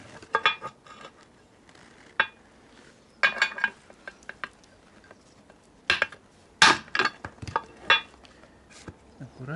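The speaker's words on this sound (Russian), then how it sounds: "И начинаем забивать" A wrench being hammered to knock out a ball joint on a Toyota Vitz, with sharp, close metallic strikes in irregular clusters separated by brief quiet pauses.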